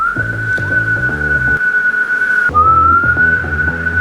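A person whistles a long, steady high note to trigger a key finder, pauses briefly, then whistles again, over a repeating low musical beat.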